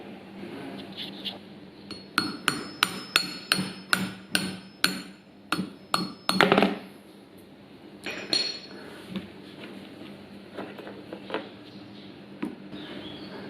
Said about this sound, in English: now I need to put the pipe on the other side and tap it out of there